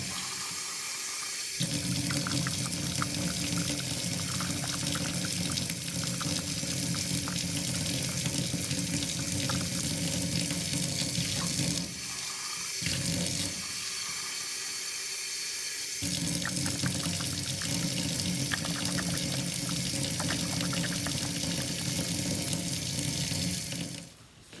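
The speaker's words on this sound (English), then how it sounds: "we need to run more water in there and continue swishing it around" Water runs steadily from a tap into a sink to rinse clay from a paintbrush, a continuous splashing flow with two short breaks where the stream is interrupted.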